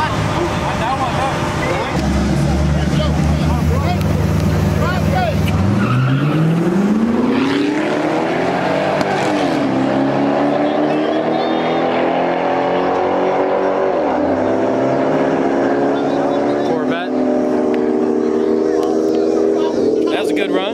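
A Corvette launching in a street race, its loud engine roaring close by and climbing in pitch through repeated gear pulls, under a constant wash of crowd noise.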